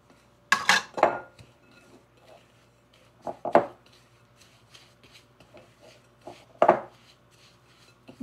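Chocolate crinkle batter of brown sugar, salt and cooking oil is mixed in a bowl, heard as scattered clinks and scrapes of a utensil against the bowl with soft rubbing between them, close and isolated.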